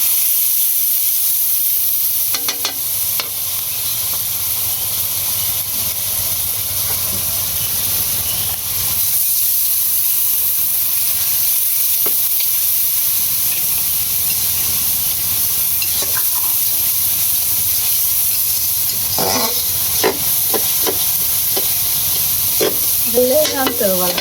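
Turmeric, salt, chili powder and onion paste fry in a pan outdoors near a jungle, a loud continuous sizzle and hiss with stirring scrapes throughout and a few brief clatters near the end.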